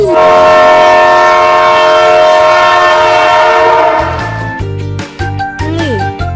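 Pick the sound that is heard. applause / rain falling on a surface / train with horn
train with horn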